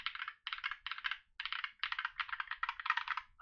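Keys clack in quick uneven bursts on a GMMK mechanical keyboard fitted with Holy Panda switches, close and crisp, short pauses between runs of typing.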